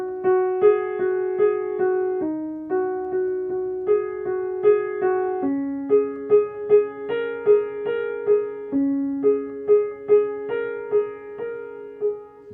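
Solo piano plays a piece in a simplified beginner arrangement: a gentle melody of evenly spaced single notes over low held tones, close and clear, with steady rhythmic attacks throughout.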